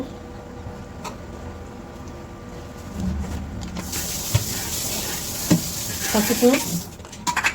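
Chili powder and turmeric stirred into fish in a pan, a spoon scraping and mixing with a soft sizzle and hiss that grows louder in the second half, close by with no speech.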